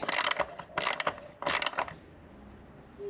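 A hand ratchet clicks in three quick close bursts while backing out a 10mm bolt that holds a bracket on a 25hp Yamaha outboard, then falls quiet.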